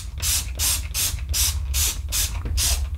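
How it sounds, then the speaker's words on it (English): Bleach spray cleaner is squirted inside a washing machine drum in seven quick, evenly spaced hissing bursts from a trigger bottle, close and loud over a low background hum. "Once you've sprayed the cleaner, leave it for a few minutes to allow the bleach to do its job."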